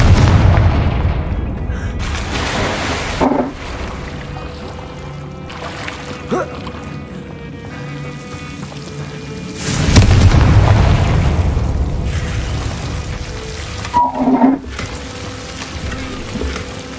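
Confringo spell blasts in the video game Hogwarts Legacy go off as several booming bursts at irregular intervals, each swelling with a crackling, fizzing tail over a steady bed of game ambience.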